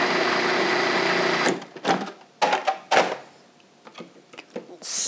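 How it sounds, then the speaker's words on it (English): A blender mixing three whole eggs into a tomato ricotta tart filling whirs loudly for about a second and a half, then stops, followed by several short bursts and clunks. "Blend that up well."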